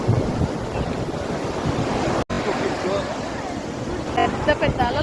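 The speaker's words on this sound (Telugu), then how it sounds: "పెద్ద పెద్ద అలలు వస్తున్నాయి. చూసారా," Big ocean waves crash and wash on the beach at Mahabalipuram, a constant roaring surf with wind buffeting the microphone, heard close with a voice talking over it.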